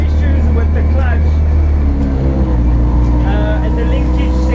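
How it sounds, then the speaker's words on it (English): A Volkswagen Challenge Class B race car, rebuilt with a slightly troubled clutch and linkage, drives with a loud, steady engine drone and low rumble throughout, close and continuous. "So we're going for our first drive in the car."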